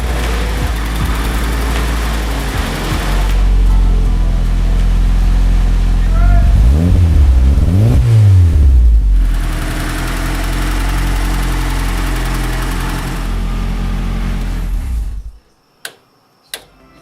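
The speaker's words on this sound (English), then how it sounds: "the SVT Focus motor started right up and purred like a kitten" The SVT Focus engine in a turbo Ford Escort ZX2 runs at a steady idle with a couple of rising and falling revs in the middle, then cuts off, leaving a few faint clicks. A voice speaks over the engine.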